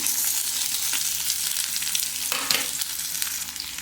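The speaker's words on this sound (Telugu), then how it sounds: "బాయిల్ చేసుకున్న ఎగ్స్ కొంచెం ఆయిల్ పోసుకొని కాగిన తర్వాత పచ్చిమిర్చి ఉల్లిగడ్డ వేసుకుందాం" Green chillies and onions frying in hot oil in an iron kadai for boiled egg pulusu curry, with a steady bright sizzle and occasional stirring scrapes, no talk.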